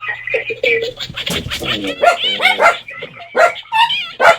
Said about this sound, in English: Now my dogs are barking at you.